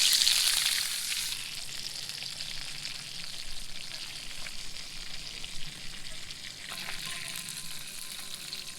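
Brook trout frying in plenty of butter and soy sauce over a camp stove, a soft steady sizzle and crackle that starts louder and settles to a quieter hiss.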